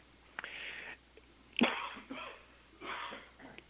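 A single sharp sneeze bursts out amid soft, muffled vocal noises and breaths, fairly close and moderately loud.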